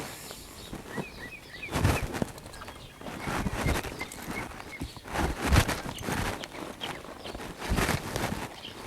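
A two-year-old horse's hooves thud and shuffle on the ground as it backs up in a few slow, irregular steps, close by, with faint bird calls in the background.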